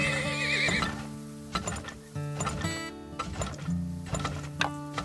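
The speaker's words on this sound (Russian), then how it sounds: "одна лошадка налево" A horse in the video game Turmoil gives a sharp whinny, followed by rhythmic clip-clop hooves and mechanical game clatter at close range.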